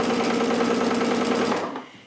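A sewing machine stitching quilt binding on a placemat, a steady, fast rattling run that is close and loud, then slows and stops near the end.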